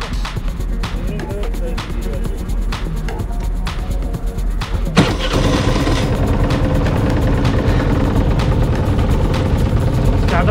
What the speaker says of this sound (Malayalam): അപ്പം അങ്ങനെ ബോട്ട് സ്റ്റാർട്ട് ചെയ്യാൻ പോവാണ്.